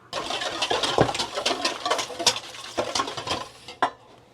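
A pan being swirled over heat with nut butter inside, giving a busy scraping, rattling metallic sound with sharp clinks, close and steady without talk.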